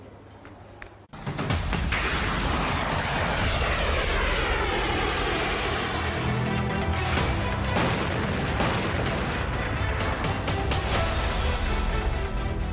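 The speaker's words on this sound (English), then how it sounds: "What you're looking at is the Nag, India's very own anti-tank guided missile, blasting out from its carrier" Nag anti-tank guided missile launching from its carrier at the Pokhran test range: after a brief quieter moment, a sudden loud roaring blast settles into a sustained, powerful rushing roar that carries on to the end.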